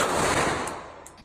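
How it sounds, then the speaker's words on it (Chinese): Gunfire at a shooting range as a shooter in sunglasses fires hard at a target, a dense, loud burst of shots that fades off quickly. "对着标靶猛烈射击"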